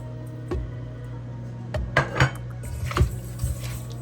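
A spoon mixes sazon, creole and other seasonings in a bowl, giving a few close clinks and scrapes of utensil against dish over about four seconds, with no talking.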